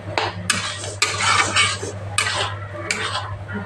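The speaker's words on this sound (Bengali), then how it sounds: "ভালো করে মিক্স করে নিচ্ছি।" A spoon scrapes and clinks against a pan while carrot halwa, carrots cooked down in milk, gets mixed, several uneven strokes close by with a steady low hum behind.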